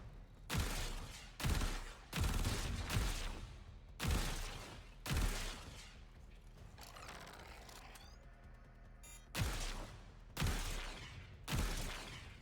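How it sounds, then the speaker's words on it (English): Video game gunfire at shooting targets, with about nine loud, punchy shots in an irregular rhythm, each followed by a short ringing tail and a quieter gap near the middle. "Track and shoot all targets."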